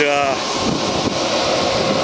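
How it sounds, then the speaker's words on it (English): Steady rushing wind buffets the microphone, a broad continuous roar with no pauses. "it's always windy up here"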